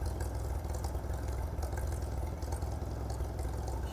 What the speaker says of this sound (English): was finally able to get the old tractor up and running again.